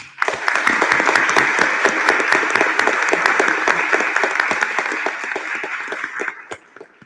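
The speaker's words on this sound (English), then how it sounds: "join me in giving him a round of applause" A school district board meeting audience breaks into sustained applause, dense steady clapping from many people that fills the room and fades out near the end.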